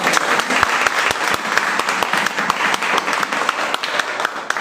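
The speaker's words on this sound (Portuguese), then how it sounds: "Graças a Deus, uma salva de palmas." Church congregation bursting into a round of applause after a blessing, loud, dense and continuous clapping with sharp individual claps poking through the wash.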